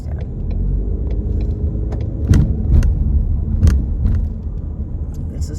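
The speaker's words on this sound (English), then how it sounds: "This is rush hour traffic," Cars crawl in rush hour traffic on a Los Angeles freeway, heard from inside a vehicle as a steady low rumble with occasional clicks and knocks.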